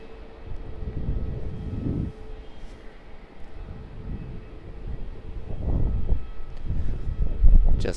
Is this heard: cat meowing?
no